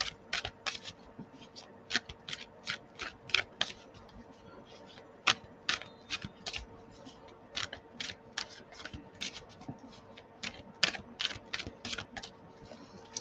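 Rapid crisp riffling taps come in short bursts as a deck of tarot cards is shuffled, close and fairly quiet over a faint steady hum.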